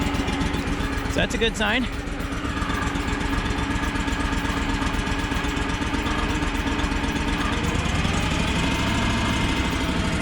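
A small engine idles steadily with its choke pushed in, a close and continuous rough putter, while someone speaks briefly near the start.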